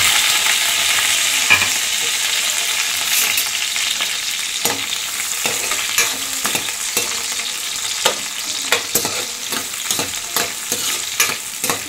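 Sliced onions and green chillies fry in hot oil with cumin and mustard seeds, giving a continuous close sizzle broken by frequent sharp scrapes and taps of a spoon stirring the pan.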